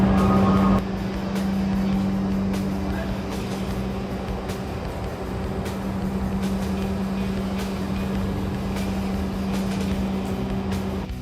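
A Toyota 4Runner engine idles and rumbles steadily at close range, with a low hum and scattered clanks from a workshop around it.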